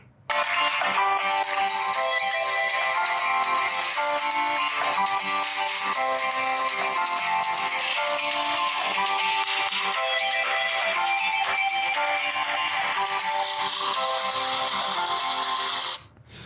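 Music plays through the mono speaker of a POCO C75 phone, loud and continuous with a bright, thin tone, running without pause until it stops just before the end.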